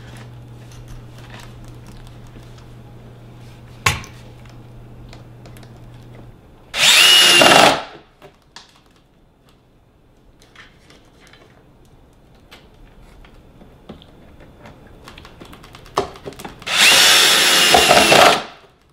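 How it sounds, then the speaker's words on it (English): A power drill drives screws while a PIN Genie smart lock is being installed, two loud whirring bursts of about a second each, separated by quieter handling sounds. "we're going to go ahead and we're going to get our screws in."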